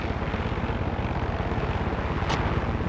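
Helicopter in the Far Cry 6 video game, a steady rotor and engine drone holding loud and constant throughout with a rhythmic low thump, no talking over it.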